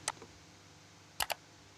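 Sharp clicks from a laptop mouse and keyboard, one click followed after a pause by a quick double click, close and crisp over a quiet background hum.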